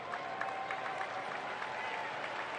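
A stadium crowd applauds a soccer player at a Tampa Bay Rowdies match, a dense, even wash of distant clapping and crowd noise that holds steady throughout.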